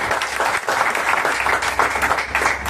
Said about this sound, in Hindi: आप सभी लोगों के लिए जोरदार ताली बजाएंगे।